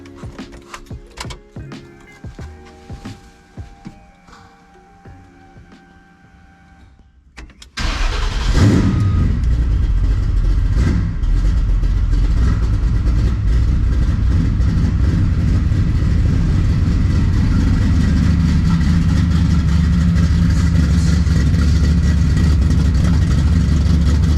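A C10 street truck engine cranks and catches after a few seconds, then roars at a loud, steady idle with revving up close, no talking.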